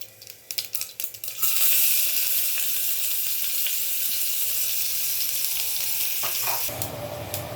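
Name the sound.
onion sautéing with asafoetida in a pan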